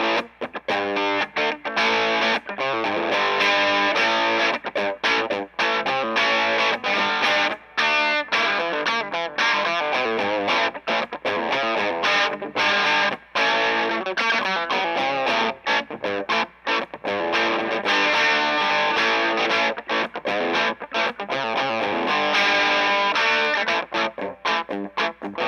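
Electric guitar playing chords and riffs through a Mesa Boogie DC-5 tube amp with gain on 2, mild crunchy overdrive, continuous and fairly loud, no voices.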